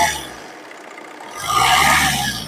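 A 2013-model car at a used car shop, its engine idling low and then revving up into a louder, rough roar that holds for about a second before easing back.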